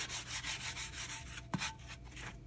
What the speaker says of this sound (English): put a block of wood behind it so that I can make sure that I'm giving my tumbler a nice level even sand